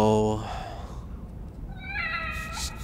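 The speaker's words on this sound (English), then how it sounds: "Just a little red kitty." Small red cat meowing in The Evil Within DLC The Assignment, a short rising meow heard faintly over a low ambient background, with a voice speaking briefly at the start.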